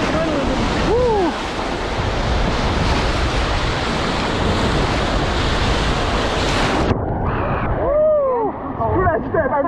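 Roaring white water of class 4 rapids on the Kennebec River in Maine at about 8,600 CFS, a loud continuous rushing wash with wind buffeting the microphone, and voices shouting over it.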